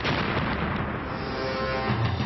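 Dynamite blasting at the Three Gorges Dam construction site, a dense continuous roar of explosions and rumbling booms with no clear gaps, loud throughout and heard without voices.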